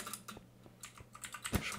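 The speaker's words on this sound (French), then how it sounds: "Parce qu'on entend vachement mon clavier aussi d'ailleurs." Rapid clicky keystrokes on a computer keyboard, a few louder taps standing out near the end, fairly close and with no talking.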